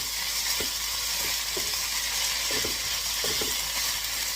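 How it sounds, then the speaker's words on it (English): Lo mein noodles with vegetables, ginger, garlic and hot sauce sizzle steadily in a pan, with soft rhythmic scraping and clicking from repeated stirring, close and even throughout. "Now, stir for a few minutes."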